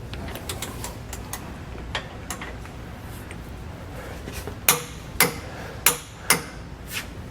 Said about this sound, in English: I'm going to torque them to the specs that I found in the installation manual.